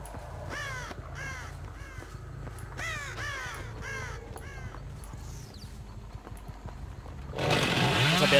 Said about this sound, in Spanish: Estos pájaros han volado, no sé por qué.